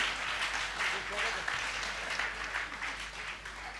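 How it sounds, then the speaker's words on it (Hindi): An audience at a Hindi comic poetry gathering claps together, a steady wash of applause with rhythmic swells, moderately close and sustained throughout. "एक बार मिलके ताली बजाओ तो मैं कविता सुनाता हूं साहब।"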